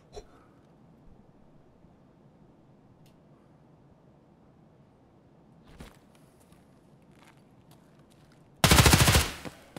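A short, loud, dense burst of automatic gunfire from the Escape From Tarkov game near the end, after quiet stretches with a couple of faint thumps.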